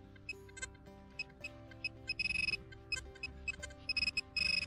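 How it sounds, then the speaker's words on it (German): A metal detector sweeping over a buried find during treasure hunting gives off bright, high beeps and chirps, first single pips, then rapid bursts of repeated tones, close and clear over a faint background hum. "Ja, hier piepst es auch schon."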